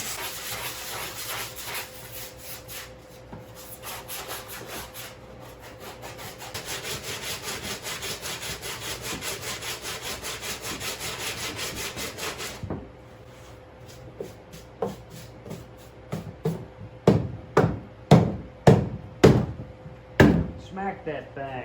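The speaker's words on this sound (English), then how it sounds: "I use a sheet of wood with some sandpaper taped to it" A car bumper being sanded with sandpaper taped to a wood block, steady close rasping strokes for about twelve seconds, then a short pause followed by a run of louder, separate scrubbing strokes that speed up toward the end.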